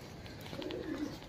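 Kalmuhe pigeons cooing softly, a faint low murmur of two brief coos in a quiet pigeon loft.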